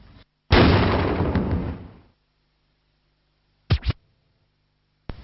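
A cannon firing as a CGI film sound effect: one loud blast that decays over about a second and a half, followed by two short sharp pops and another brief hit near the end, with silence between.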